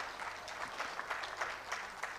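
Audience applause for a guest at a memorial engineering lecture, a soft, distant patter of clapping hands from a seated crowd, steady and low in level.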